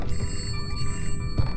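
A telephone rings in the indie horror game Contemp, a sustained electronic ringing tone over a low rumbling ambient background, moderately loud and continuous.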